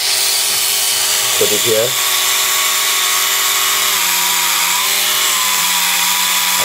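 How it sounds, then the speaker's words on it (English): Sandpaper held against a spinning Tamiya Mini 4WD ball bearing gives a loud, steady motorized whine with a high abrasive hiss, while someone speaks briefly over it. "Okay, now it's rotating. Okay, see, it's rotating now. okay? Why? And then you can use a sandpaper,"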